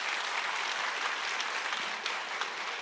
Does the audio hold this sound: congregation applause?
yes